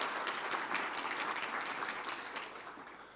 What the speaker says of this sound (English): Can we have a round of applause for the moderator who did such a great job?